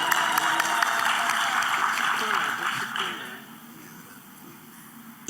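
Audience applause and cheering at a pension fund's annual meeting, a dense wash of clapping that stays strong and then fades away toward the end, with voices underneath.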